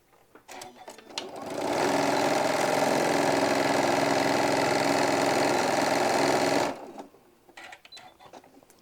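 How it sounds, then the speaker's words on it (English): A sewing machine runs steadily for about five seconds, sewing a pleat on a hobo bag, close and loud, with quiet handling sounds before and after. "And sewing your pleat."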